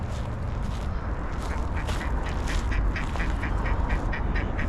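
A duck on a Banana River beach in Florida quacks insistently in rapid repeated bursts, close and loud over a constant rush of wind and water.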